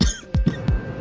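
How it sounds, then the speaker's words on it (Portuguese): A man coughs up blood the morning after a rejection, giving three harsh, wet coughs in quick succession, close and loud, with no talking. "ele acorda tossindo sangue"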